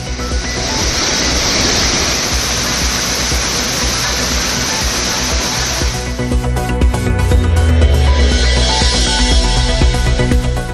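Roaring waterfalls at Hogenakkal on the Kaveri river, swollen by a surge in flow, produce a loud, dense, unbroken rush of falling water heard up close, with a deeper rumble swelling in the second half.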